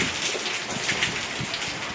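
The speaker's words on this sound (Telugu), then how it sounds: "పిడుగులు ఎక్కువ పడతాయండి" Heavy rain pours during a thunderstorm, a dense, loud and continuous roar close by with faint low rumbling underneath.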